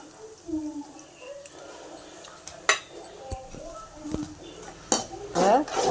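A utensil scrapes and clinks against a pan as gobi manchurian is stirred with soy and tomato sauces, giving intermittent sharp metallic knocks over a low cooking hiss.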